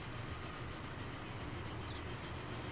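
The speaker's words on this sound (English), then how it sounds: "Grand Central train there, heading out." Grand Central train pulling out along the main line in Transport Fever 2, a steady low rumble of engine and rolling wagons that holds even and unbroken throughout, with no voices over it.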